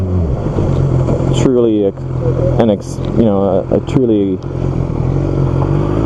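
A BMW S1000RR superbike running under a rider, its engine droning steadily with rising and falling rev sweeps, loud and close, while someone talks over it.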